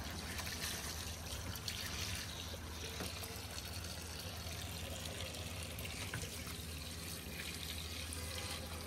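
Tap water runs steadily into a sink while rice is washed, a continuous faint trickle and splash with no voices.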